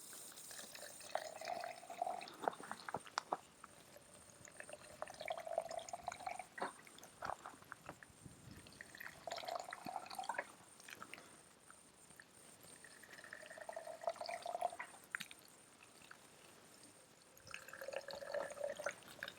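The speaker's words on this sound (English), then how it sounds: "that one's not in properly, you can see, because the water's escaping" Water trickling from a watering bottle pushed into allotment soil among strawberries and kale, heard as faint, close gurgling drips and small pours that recur in soft bursts over a quiet outdoor background.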